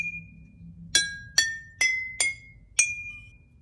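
Water-filled glass cups are struck like a xylophone, giving five bright, ringing tones, each a sharp strike followed by a short sustained ring, evenly spaced and heard close and alone.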